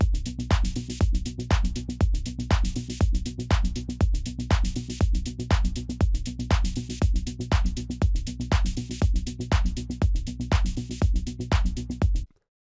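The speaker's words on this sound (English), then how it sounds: "I also put this bass loop from our Astral sample pack in there" Electronic beat pairing rapid hi-hats with a bass loop from a sample pack, steady crisp ticks over a pulsing low-end groove, loud and continuous for about twelve seconds before cutting off, with no speech.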